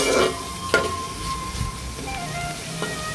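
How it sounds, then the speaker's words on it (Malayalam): Onions sautéing in a pan on a low flame for a Kerala-style onion fry, a continuous gentle sizzle broken by a few spatula scrapes and taps, close and fairly loud, with no speech. "അപ്പോൾ സ്ലിം ആക്കിയിട്ട് വെച്ചിട്ട് നന്നായിട്ടൊന്ന് ഇളക്കി കൊടുക്കുക, നന്നായിട്ടൊന്ന് വണങ്ങുക."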